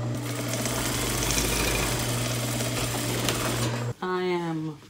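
A sewing machine stitches a peplum top in a steady, loud mechanical whir that runs without pause for about four seconds, then stops; a person speaks briefly just after.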